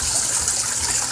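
A backyard waterfall pours steadily into a garden pond among dense foliage, a loud, continuous close-up rush and splash with no break across the short stretch.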